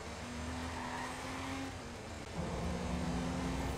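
Car engine in the video game Watch Dogs, a steady droning motor hum holding one pitch, briefly dipping before resuming at a slightly different tone, continuous and fairly loud with no talk over it.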